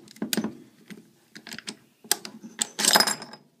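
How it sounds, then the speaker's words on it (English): Close metallic clicks and scrapes come from an M26 shotgun being disassembled as its bolt is pushed rearward, in several short, irregular bursts ending in a sharper rattling clack, with no talking. "push the bolt rearward."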